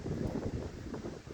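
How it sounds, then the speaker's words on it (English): Strong gusts buffet the microphone at a cricket ground in Crib Point, giving a brief, close, low roar of wind noise with no voices. "Windy enough to blow a dog off a chain down here at Crib Point."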